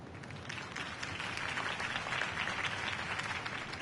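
A crowd applauding after a campaign speech, steady dense clapping that holds at an even level throughout, heard from a moderate distance.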